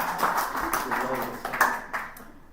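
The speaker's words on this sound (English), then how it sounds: "Yes, applaud my mother." Scattered applause from a small house-concert audience, a few claps rising and fading over a couple of seconds, fairly quiet and close.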